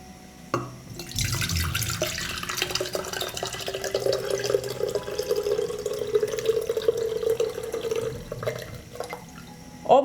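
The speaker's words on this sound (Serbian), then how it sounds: "Procedit ću." Water soaked overnight with banana peels pours through a strainer in a steady, trickling stream for several seconds, close and fairly quiet, then tapers off to drips.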